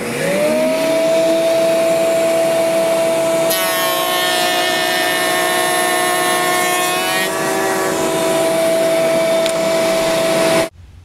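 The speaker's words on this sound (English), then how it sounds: "To cut the profile or sticking of our rail or stiles, we are simply going to run our piece face down on the surface of the router table" Router table cutting a rail or stile profile in wood for divided-light cabinet doors, a loud steady high motor whine with a rougher cutting roar as the piece feeds through, ending abruptly as the router stops.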